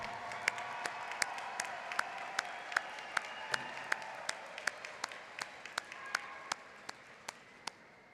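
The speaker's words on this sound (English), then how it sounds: "please turn around to recognize and applaud these dear friends and family members" Graduates at a commencement ceremony applaud friends and family, giving a steady wash of crowd clapping with sharp, regular claps standing out, fading slightly toward the end.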